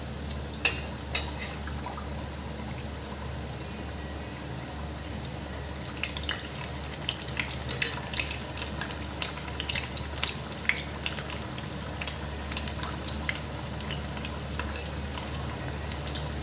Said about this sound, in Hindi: हमारी कढ़ाई गर्म हो गई है, अब हम इसमें पूड़ी डालते हैं।